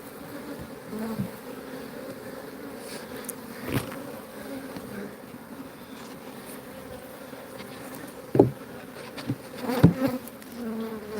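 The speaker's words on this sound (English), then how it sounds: "I got bees on this trying to get in." A steady, low hum of many honeybees buzzing around a hive, continuous throughout with occasional louder passes close by and a few small knocks.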